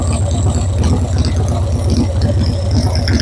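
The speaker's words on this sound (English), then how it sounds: "it sounds like it's idling pretty smooth" A carburetted motorcycle engine, its mixture screw set three turns out, idles steadily at close range with an even low pulsing thump and a light mechanical rattle.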